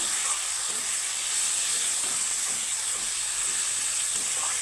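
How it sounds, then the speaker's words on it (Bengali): A spice paste of ground cumin and coriander fries in oil for a katla fish curry, giving a steady, even hiss and sizzle that stays constant throughout at moderate loudness, with no distinct stirring strokes and no speech. "তো তেল ছাড়া অব্দি মশলাটাকে ভেজে নিব"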